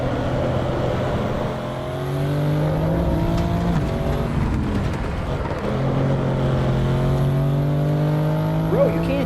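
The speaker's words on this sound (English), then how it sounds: "I'm just sliding the car on purpose" A car in a video game drives and slides, with a continuous engine drone shifting in pitch as it revs across the whole stretch, loud and steady throughout.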